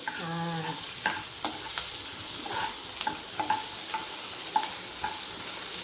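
Ingredients sautéing in oil in a home kitchen pan, a soft steady sizzle punctuated by frequent sharp clicks of a spoon stirring and scraping, close and clear with no talk.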